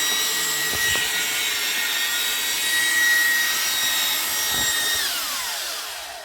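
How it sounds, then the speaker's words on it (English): A tool is stirred and scraped through food waste slurry being mixed with water for a home biogas digester, making a steady rubbing, grinding sound with a few sharper knocks, close and continuous, with no talk. "So I'll continue stirring."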